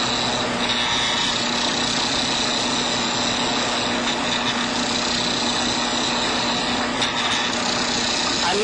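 A Shopsmith set up as a wood lathe spins a pen blank while a bowl or spindle gouge shears the wood with a light touch, giving a steady motor hum and a continuous whirring scrape throughout, with no talking.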